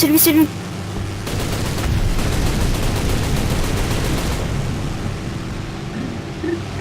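Gunfire in a War Thunder battle plays as dense, fast automatic bursts, sustained and loud for several seconds before tapering off, with some indistinct speech mixed in.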